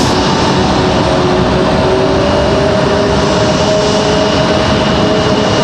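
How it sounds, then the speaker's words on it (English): Delta Airbus A321neo jet departing Raleigh-Durham, a loud, close, sustained engine roar with a faint steady whine running through it and no speech. "that A321, it was Delta 2496 headed off to Salt Lake City. That Neo."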